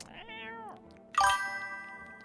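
A video game cat gives a short, close meow, followed a moment later by a bright chime-like ding that rings out and fades; no one speaks.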